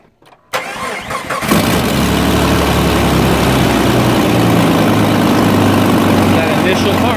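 A rebuilt Jeep 4.0L engine cranks briefly, then catches and settles into a loud, steady idle that runs close by to the end.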